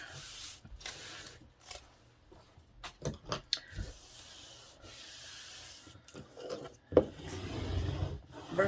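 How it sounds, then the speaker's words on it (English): Tape being burnished down onto a paper folio, heard as repeated dry rubbing and scraping strokes in irregular bursts, close and moderately loud, with no talking. "Burnish that down really good."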